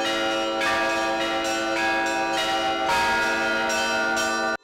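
Church bells rung by hand from a cathedral belfry, loud and close, ringing in a regular rhythmic peal with overlapping strokes and a long shimmering ring, with no voices.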